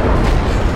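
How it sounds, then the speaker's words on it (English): Massive explosion in the video game GTA 5, a loud, sustained roaring boom filling the whole brief moment with heavy low rumble and broad blast noise. "I'm gonna throw it in, and this explosion is massive"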